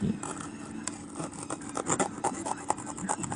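A knife saws back and forth through a banana stalk during traditional Thai carving, making a close, rapid rasping scrape in short repeated strokes.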